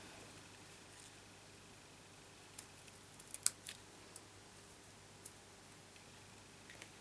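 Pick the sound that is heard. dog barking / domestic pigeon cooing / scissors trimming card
scissors trimming card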